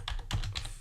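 Typing on a computer keyboard, a quick close flurry of several clacking keystrokes within under a second.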